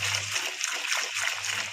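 Water is poured from a tap into a household cleaning mixture of detergent and bleach, a steady, close splashing and gurgling stream heard over a faint low hum.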